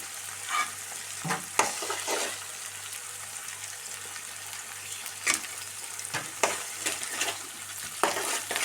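Eggs being scrambled with softened sliced onions in a pan, with steady sizzling and intermittent scraping strokes of a spatula, close and moderately loud, no talking.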